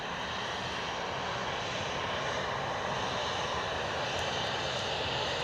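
A jet airliner's engines roar steadily near a parked Ryanair plane at Edinburgh airport, a broad, continuous whine and rush that stays at one level throughout without a break.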